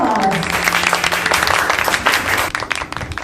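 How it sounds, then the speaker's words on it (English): Wedding guests give a round of applause after a blessing for the couple. The clapping is dense and steady, with voices over it at the start, and it begins to thin toward the end. "Ladies and gentlemen, let's give Mr. Johnson Mark a big round of applause."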